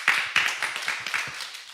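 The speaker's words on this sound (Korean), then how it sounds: "박수 한번 줍시다" A church congregation gives a short round of applause during a Palm Sunday dialogue sermon, brisk clapping that starts loud and tapers off within about two seconds.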